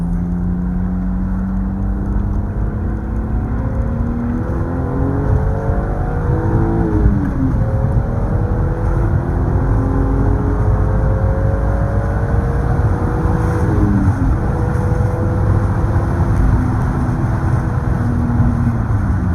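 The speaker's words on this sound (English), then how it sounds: "You can get a little acceleration run, maybe." A totally stock car accelerates in a continuous run from inside the cabin, its engine note climbing through repeated rising sweeps with brief dips between them as gears change, loud and steady with a whirring mechanical edge beneath.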